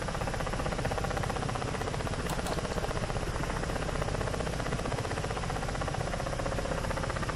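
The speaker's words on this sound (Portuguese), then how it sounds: "É para isso que o helicóptero existe, andar baixo e protegido pelo terreno." Ka-50 Black Shark coaxial-rotor attack helicopter flying low over terrain in the DCS flight simulator, a constant loud, dense rotor and turbine drone with a fast rhythmic beat, no voices.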